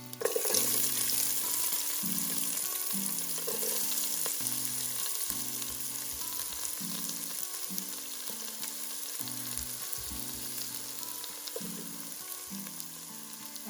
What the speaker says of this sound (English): I'm going to be stir frying the garlic